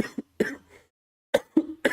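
Several sharp coughs from a single person, close and fairly loud, in two bursts separated by a short silence, with no speech around them.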